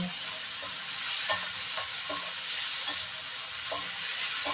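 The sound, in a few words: stir-fry sautéing in a pan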